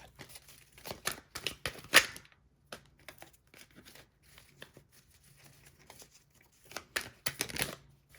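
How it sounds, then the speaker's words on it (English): Tarot cards are shuffled in repeated bursts of quick riffling flutters and soft slaps, with quiet gaps between, close and fairly faint. "Couple more shuffles and we'll get right into the reading."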